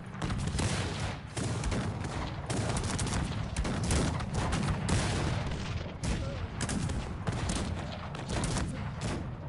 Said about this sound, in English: Grape shot's gonna annihilate my guys.